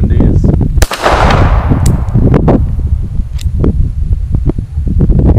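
A Stallard Arms JS 9mm pistol fired outdoors, one loud sharp report followed by a fading echo, with a few smaller bangs and clatter afterward.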